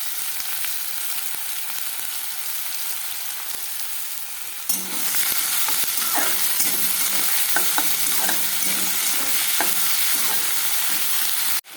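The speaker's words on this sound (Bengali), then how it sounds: "তো আমি একটু ভাজা ভাজা করে নিচ্ছি" Fish pieces with potato, onion, tomato and mustard paste frying in a pan make a loud, steady sizzle that intensifies sharply midway, with repeated scraping stir strokes throughout and no one speaking.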